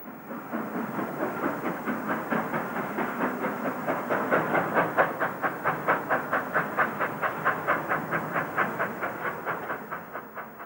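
Steam locomotive 82027 hauls empty stock up a hill on the Somerset & Dorset line, a loud, close, steady rhythmic chuffing with hissing steam and a faint clatter of wheels, building slightly and then easing.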